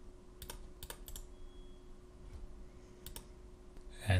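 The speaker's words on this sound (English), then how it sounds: "inside this parenthesis as a parameter I'm gonna type the path to my image" Keystrokes on a computer keyboard while a file path is entered in Python code, arriving as scattered single clicks and short bursts over a steady low hum, fairly faint, with a louder knock at the very end.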